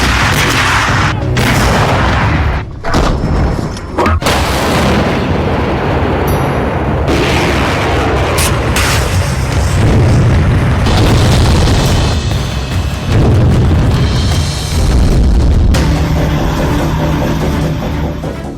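Missile and bomb explosions from a war report on Russia and Ukraine, a continuous loud barrage of booms and rumbling blasts with heavy low-end roar throughout, no talk.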